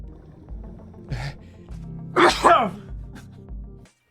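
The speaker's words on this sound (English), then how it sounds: "This dude just sneezed for attention." A single sharp sneeze bursts out in the middle, flanked by soft vocal sounds and background noise in an otherwise quiet room.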